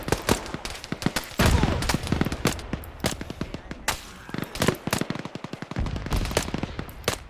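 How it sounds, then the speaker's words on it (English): Rapid bursts of automatic and single-shot gunfire crack repeatedly during a team training exercise near a bridge and beach, some shots close and loud, others overlapping in irregular volleys throughout. "they're shooting at us. Yeah, we're under fire."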